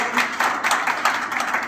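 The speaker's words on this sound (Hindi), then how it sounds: "एक बार जोरदार इनके लिए तालियां बजा के इनको" An audience claps in a short burst of rhythmic applause, with quick, closely spaced hand claps at moderate volume.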